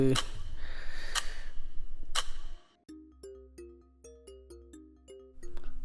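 A mobile phone rings in a Tamil short film, a repeating electronic melody of short tonal bursts that comes in abruptly after a burst of noise and plays clearly several times before the noise returns.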